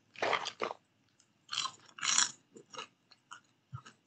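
Crunchy caramelized popcorn chewed close to the mic, several bursts of crisp crunching separated by brief silent pauses, with no talking.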